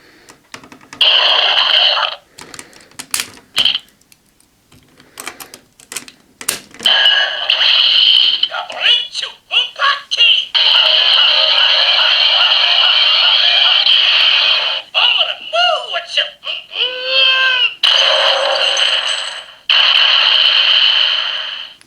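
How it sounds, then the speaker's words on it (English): Kyoryujin Jyudenryu transforming toy playing its electronic finish sound effect, a bright buzzy whooshing tone in several bursts with swinging motion, loud and close after a few clicks of handling. "So its sound effect is bun bun, and that's the sound of something being swung through the air"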